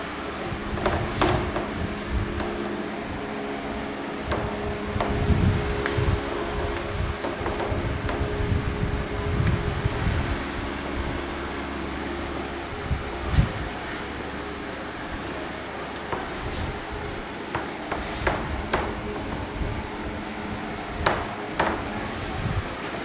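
Writing is rubbed off a classroom board during a physics lesson. Steady scrubbing strokes come close and fairly loud, with occasional knocks against the board, and continue for the whole stretch.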